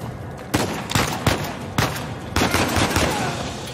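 Gunfire from a weapon in Uncharted 4 cracks out in a string of loud, close shots spaced irregularly, about five or six sharp reports over steady background noise.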